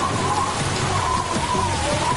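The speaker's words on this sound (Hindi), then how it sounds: "यहाँ इस वैंकूवर द्वीप पर इस समय मुझ पर बारिश गिर रही है" Steady rain on Vancouver Island patters and hisses on surfaces nearby, a continuous wash of drops with no pauses.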